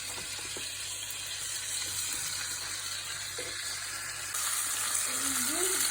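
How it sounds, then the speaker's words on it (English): Faint, steady sizzling of chicken frying in a pan, a soft continuous crackle with light background hum. "So here we have our chicken sizzling."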